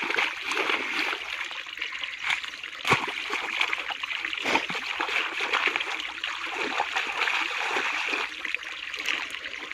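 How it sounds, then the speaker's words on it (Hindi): Water runs steadily through a freshly opened channel in a field, a continuous splashing, trickling flow heard close by, with a few louder splashes and faint voices in the background. "तो ये इमरान साहब अभी यहाँ से पानी के लिए एक और रास्ता बना रहे हैं"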